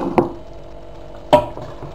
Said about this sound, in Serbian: Evo ja ću naspem u tanjir, čisto da se to vidi kako izgleda